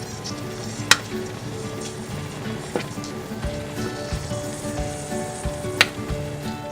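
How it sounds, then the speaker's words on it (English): Cranberries simmering on a stovetop for Thanksgiving cranberry sauce, a continuous close bubbling sizzle with a few sharp pops and clicks scattered through it. "So I'm letting the cranberries finish cooking"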